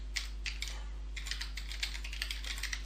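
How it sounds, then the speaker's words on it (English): Keys tapped on a computer keyboard while a password is entered for an email hosting setup, a quick uneven run of light clicks heard close and alone over a low steady hum. "I type that one in"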